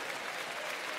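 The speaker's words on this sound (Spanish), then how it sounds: "Más fuertes los aplausos." A church congregation applauding loudly during a sermon, a dense, steady wash of clapping from many hands with no gaps.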